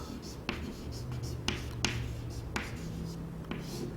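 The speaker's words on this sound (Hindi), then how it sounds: "तो चलिए ये थर्ड का मैं एक फर्स्ट पार्ट लिख देता हूं" Marker or chalk writing on a board during a math class, a series of quiet strokes and taps spaced through the clip over a low hum.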